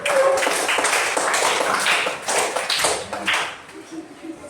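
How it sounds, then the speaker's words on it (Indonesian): Students clapping in a classroom after a correct answer: a burst of brisk, close handclaps from a small group, strong at first then thinning out toward the end, with some murmured talk beneath. "Tepuk tangan."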